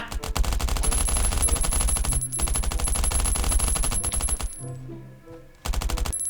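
Rapid automatic gunfire from the survival shooter game Last Island of Survival rattles in loud sustained bursts, breaking off briefly before another volley starts at the end.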